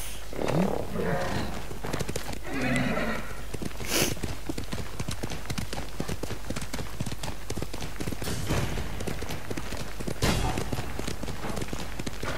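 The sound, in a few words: horse neighing and hooves in video game Ghost of Tsushima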